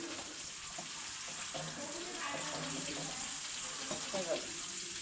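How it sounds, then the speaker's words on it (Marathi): Water is poured into a fish gravy being cooked, a soft steady trickle and splash heard faintly against a constant background hiss. "थोडं आपण पाणी टाकून घेऊया"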